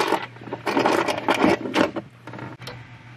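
A new ignition lock cylinder with its new key is pushed into a Chevrolet Silverado column, giving a quick run of close metallic clicks, scrapes and ratchety rubs over about three seconds against a low steady hum.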